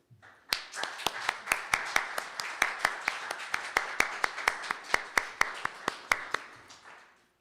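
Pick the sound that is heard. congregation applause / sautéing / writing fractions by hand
congregation applause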